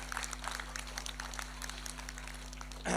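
Scattered, fairly faint clapping from a crowd at a Fiji Day celebration in Brisbane, with a low steady hum underneath and a louder burst at the end.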